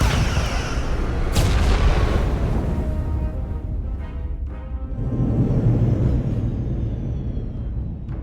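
Starship weapons fire during a space battle in Star Trek: Resurgence, heavy booming blasts with a sharp crack early on, then rumbling impacts and a fading roar, loud and alone.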